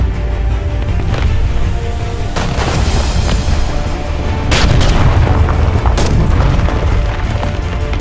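Battleship big guns fire at Sturmtigers in a video game, with heavy booming blasts and rolling artillery rumble that fill the whole stretch, sharper cracks standing out at intervals over constant low thunder.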